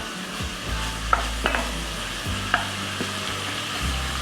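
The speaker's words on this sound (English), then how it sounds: "So we're just going to brown the beef" Ground beef, 80% lean, browning in a pan for taco salad: a steady close sizzle with a few sharp clinks and scrapes of a utensil stirring the meat, no voices.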